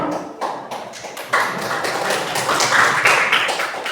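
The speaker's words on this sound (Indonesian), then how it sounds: "Tepuk tangan untuk kelompok" Classroom applause for a student group sounds as scattered, uneven clapping from a small number of people, with individual claps standing out before thickening into a light patter.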